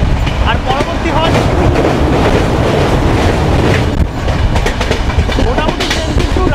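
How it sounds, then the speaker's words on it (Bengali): A train running on the line as it arrives at Siliguri on the Kolkata to Darjeeling route, a loud continuous rumble with rattling clatter and wind noise, heard close from on board. "শিলিগুড়ি ঢুকছে ট্রেন"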